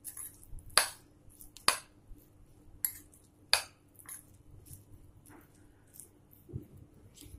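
Chopped raw mango and onion mixed in a bowl with a spoon, several sharp clinks and taps in an irregular rhythm over soft squishy rustling, close and fairly quiet with no talk.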